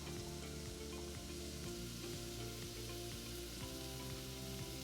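Leeks sizzle steadily in a pan over low heat, seasoned with salt and pepper, a continuous close hiss of frying with no talk.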